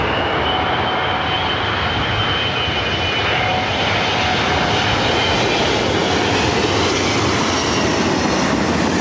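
A commercial airliner lands at LAX, its engines a loud, steady broadband roar that holds for the whole stretch, with a thin whine riding above the rumble and no voices.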